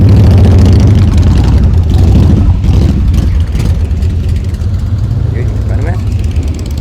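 A deep Renault Mégane RS engine rumbles steadily nearby at a car meet, idling loud and low with slight shifts in pitch, no voices over it.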